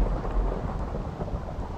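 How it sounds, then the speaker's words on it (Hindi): Steady rain with a low thunder rumble in the video game Minecraft, a continuous wash of noise that stays even and fairly loud throughout, with no speech. "अरे ये बारिश क्यों नहीं बंद हुआ?"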